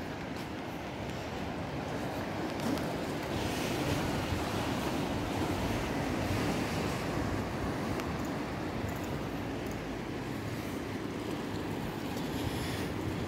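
Ocean surf washes steadily onto the shore at Luanco, Asturias, as a continuous soft broadband roar with some wind, faint and with no talk over it.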